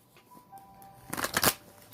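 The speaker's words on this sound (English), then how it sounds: "One more shuffle." A deck of tarot cards is shuffled up close in a quick riffling burst lasting about half a second, after a quiet lead-in with faint background tones.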